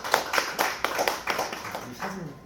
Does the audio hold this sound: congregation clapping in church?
yes